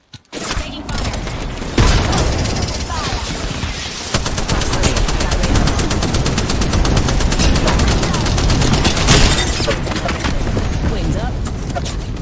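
Sustained automatic gunfire in Apex Legends, dense rapid bursts nearly continuous and loud, with game voice lines and talk mixed over the shooting.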